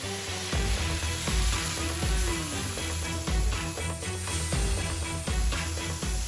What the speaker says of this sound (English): Now flip over and sear the other side.